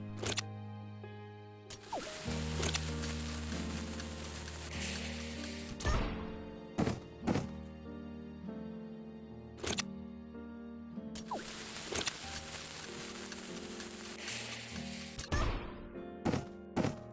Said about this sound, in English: you can use a regular bomb to launch the remote bomb upward